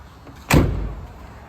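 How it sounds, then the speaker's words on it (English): Hood of a 1960 Jaguar Mark IX released indoors, a single sharp metallic clunk followed by a short fading rattle and resonance. "Now we will go ahead and open the hood."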